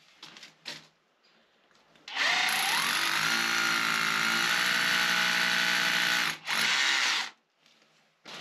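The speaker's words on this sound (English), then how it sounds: "drill some holes" A power drill drilling holes in a wall whines loudly and steadily for about four seconds, briefly dipping before one more short burst, with quiet clicks before and after.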